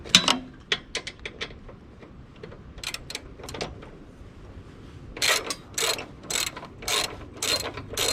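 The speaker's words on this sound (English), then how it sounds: "You're going to need a wrench on the other side?" A wrench turns a bolt on a John Deere 260B backhoe attachment mounted on a 1025R compact tractor. The ratchet clicks sharply in short irregular bursts, with a faster run of clicks toward the end.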